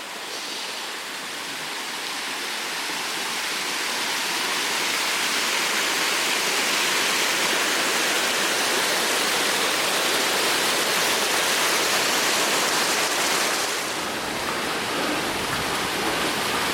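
Spring water gushing out of living rock from a stone heap in the Zvornik area, a steady loud rushing roar that swells over the first few seconds and holds broadband and continuous, with no voices.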